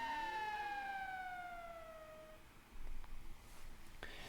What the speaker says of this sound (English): a cat will come around, and the cat will hit a switch, meow, and walk away